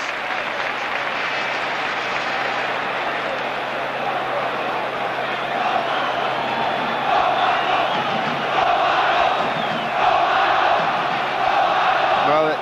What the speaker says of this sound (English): a wonderful experience, I'm sure, to have your name chanted, as Romano was then, in this vast bowl of a stadium